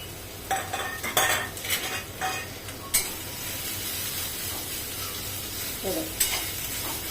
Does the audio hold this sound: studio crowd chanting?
no